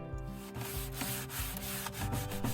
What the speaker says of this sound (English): I went to town on the rest of the body with my square sander with 150 grit.